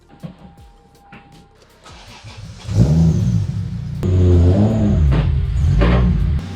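A Toyota Supra with a 2JZ engine and a Precision turbo is started and revved. Quiet mechanical clicks give way to a loud idle, and the engine rises into strong close revs.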